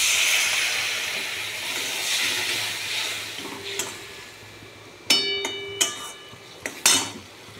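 Bengali potato curry with coriander and chili powder and a splash of water simmering in a pot gives a steady soft hiss of bubbling, then a few sharp metallic clinks of a utensil against the pot.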